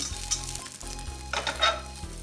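Vegetables sizzle and crackle in a hot pan while being stirred, with a steady frying hiss and occasional scraping bursts, close and fairly loud.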